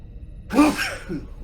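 A single sneeze, a short sharp burst close by rising out of quiet room tone.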